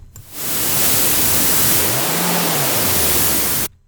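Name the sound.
synthesizer AC hum noise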